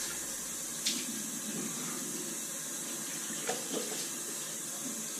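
A bathroom tap runs steadily to rinse shaving soap off a face, a constant close wash of water with a couple of brief splashes and knocks and no talking.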